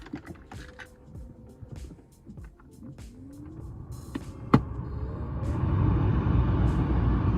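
BMW E36 M3 AC blower motor assembly under test: a few clicks and handling noises, then a sharp click as the fan starts and a steady, rising whoosh of air that keeps building to the end.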